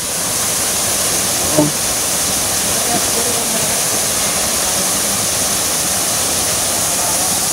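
Mahogany Falls in Trece Martires, Cavite, a steady broadband roar of falling water heard close and loud, unbroken throughout.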